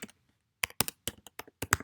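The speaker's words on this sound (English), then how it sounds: "you can start typing" Quick bursts of keystrokes on a computer keyboard, close and crisp, with a pause before an uneven run of taps.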